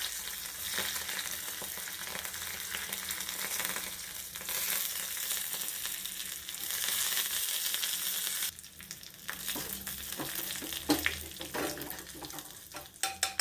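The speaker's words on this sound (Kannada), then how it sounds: "ಒಗ್ಗರಣೆ ರೆಡಿ ಆಯಿತು" Curry leaves and a dried red chili crackle and sizzle in hot oil as a tempering for onion dosa and tomato chutney, a steady close hiss broken near the end by sharper pops and stirring clatter, with no talk.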